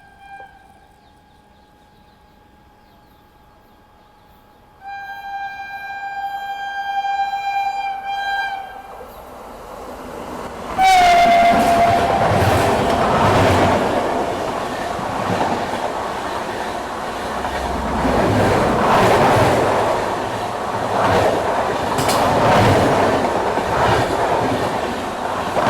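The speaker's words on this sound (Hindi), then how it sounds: "तेलंगाना एक्सप्रेस जो है वो आ रही है" The Telangana Express passes and overtakes on an Indian railway line: a long, sustained horn blares first, then the train rushes close by with a loud, continuous roar and rhythmic wheel clatter.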